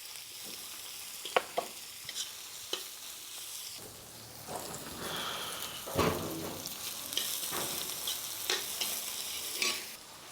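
Chopped onions sizzle and fry in a pan while being stirred, with scraping stirs and bursts of crackling oil over a steady sizzle, fairly close and quiet.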